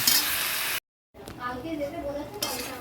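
Chopped tomatoes sauté in a pan, sizzling with metallic spatula clinks and stirring scrapes. A brief total silence breaks the sound partway through, then the sizzle and clinks resume, ending with a louder burst of frying.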